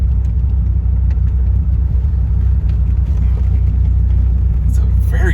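A Dodge Viper drives along with a steady, loud low rumble from its engine and side-exit exhaust running close beside the car, holding constant throughout with a brief higher noise near the end.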